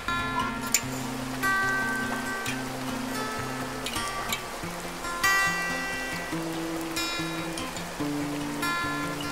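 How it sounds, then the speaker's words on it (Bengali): Steady rain falls during a monsoon-season downpour, a soft continuous patter with occasional louder drops, blended with a low droning tonal background throughout. "দেখেন কি সুন্দর বৃষ্টি"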